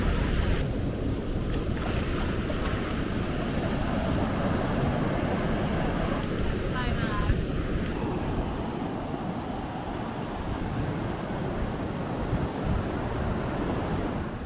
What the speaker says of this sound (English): I can't actually believe how big the waves are.